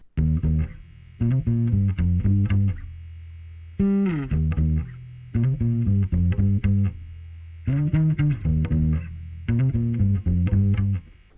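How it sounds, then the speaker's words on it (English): An electric bass guitar plays a melodic line following a chord progression, in phrases of quick plucked notes separated by short gaps, heavily effected with a chorus-like distorted sheen, loud and close. "for the bass, I wrote a new melody which will follow the same chord progression as the electric guitar"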